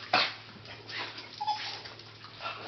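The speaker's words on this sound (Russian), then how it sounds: "Радостная псина" An excited dog whimpers and huffs before going for a walk, producing soft, breathy whines and short yips close by, with some indoor shuffling noise.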